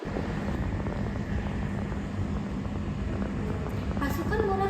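Bomber aircraft engines in a Puputan Margarana history narration, a steady droning engine roar that fills the whole stretch at moderate loudness.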